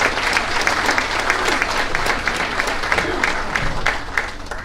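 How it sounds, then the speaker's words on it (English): Steady, dense applause from a crowd at a candidates' forum, loud and sustained for several seconds with no speech over it. "please give another round of applause"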